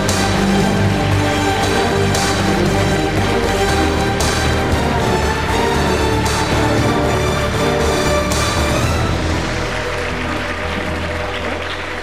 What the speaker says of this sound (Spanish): Así que se merece un fuerte aplauso.